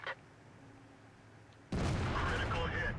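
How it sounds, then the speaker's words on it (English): In World of Tanks, an artillery shell strikes the player's tank. After a quiet stretch with a brief blip, a sudden loud, broad boom of impact cuts in and carries on as a dense, rumbling roar to the end. "Artillery fires, hits me, but it doesn't kill me."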